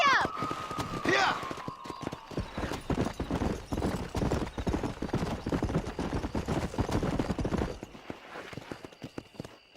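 A horse gallops in Red Dead Redemption on Xbox One, its quick rhythmic clip-clop hoofbeats loud and close. A whinny and a shouted voice come at the start, and the galloping stops near the end.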